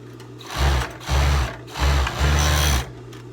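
A sewing machine stitches a teddy jacket sleeve in four short bursts of steady whirring, each about half a second long, close and clear with brief pauses between runs.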